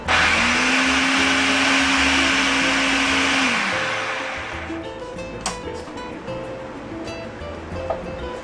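A kitchen blender pulsing green salsa ingredients gives a loud, close whirring roar for a few seconds, then winds down and stops, leaving faint clinks and small kitchen knocks.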